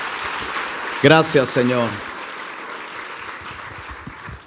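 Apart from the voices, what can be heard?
congregation applause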